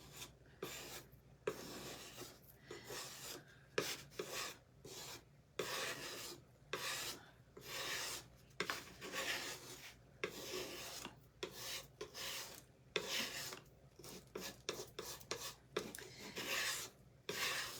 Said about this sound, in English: I'm going to use my scraper tool, and we're just going to scrape some of this off of here.